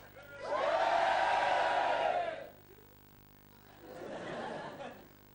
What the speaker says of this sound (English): Big cheer from the Irish.